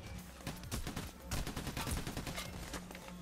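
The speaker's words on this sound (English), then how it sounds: "I was just randomly shooting" Rapid bursts of gunfire fill the Payday The Heist video game in dense, overlapping volleys, with automatic fire rattling continuously and brief uneven gaps between shots.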